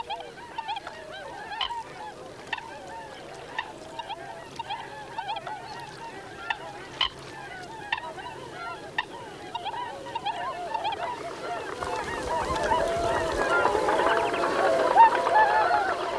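Migrant swans call on open water, giving repeated nasal honking calls at moderate distance. The calls grow louder and denser toward the end over a rising wash of background noise.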